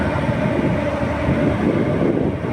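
Excursion train number 997 waits at Ban Phlu Ta Luang railway station in Thailand, giving off a loud, steady low rumble of idling machinery from close by.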